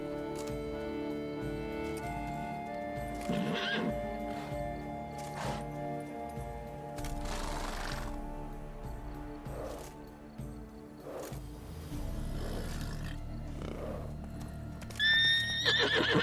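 A horse whinnies and snorts repeatedly amid hoof clops and background music in The Witcher 3: Wild Hunt – Blood and Wine, with loud bursts scattered throughout and no talking.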